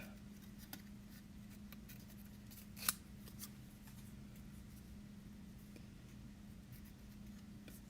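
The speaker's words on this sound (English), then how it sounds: "Now I'm going to take and fussy cut his little scarf." Scissors make small snipping cuts through paper while fussy cutting a tiny moose scarf for a card, faint and close, with a low steady hum behind and one sharper snip.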